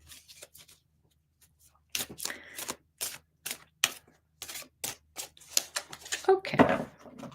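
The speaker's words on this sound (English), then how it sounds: "Shuffle, shuffle, shuffle." Tarot cards being shuffled in a series of crisp, repeated riffling bursts at a steady rhythm, close and fairly soft, with a voice speaking over the later part.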